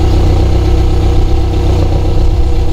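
A Yamaha F70 outboard engine on a Classic Montauk 17 boat running at a steady idle after start-up, a loud, close, continuous mechanical hum with no speech.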